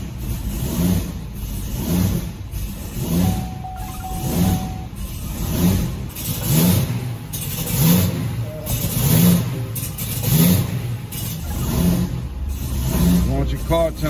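A car engine with a fluid leak, running and revving in a rhythmic rise and fall, loud and close, while people talk nearby.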